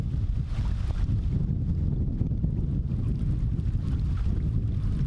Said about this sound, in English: We got waves here.